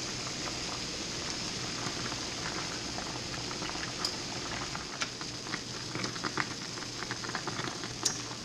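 A pot of water boils for sourdough bagels, giving a steady soft bubbling patter with occasional louder pops, fairly quiet and alone.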